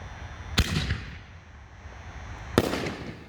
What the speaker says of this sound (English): we got 6-inch Rings of Fire by America's Greatest Fireworks